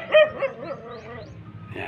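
A dog barks a few times in short yips and whimpers somewhere near a house on a broad seaside shore, the calls moderately loud over low background noise.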